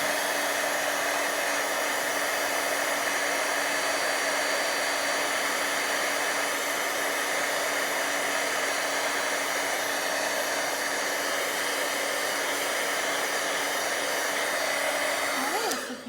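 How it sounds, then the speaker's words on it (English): An embossing heat tool blows hot air steadily over a stamped card to dry it, a loud, even, continuous whoosh that runs almost unbroken before cutting off at the very end. "thankfully I have my trusty heat tool here. I'm just going to give it another squirt just to dry it off a little bit"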